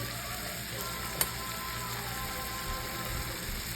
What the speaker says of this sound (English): just let that start sizzling, getting the flavor and stuff